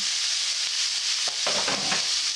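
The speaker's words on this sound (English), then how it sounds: "I'll throw the chicken in and start to brown it" Chicken browns in a hot stir-fry pan, sizzling steadily with a soft continuous hiss, then a few louder bursts of crackling as pieces are stirred.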